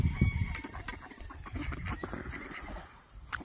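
Geese, ducks and turkeys forage in a backyard, with a mix of nearby clucks, honks and gobble-like calls over rustling and shuffling sounds.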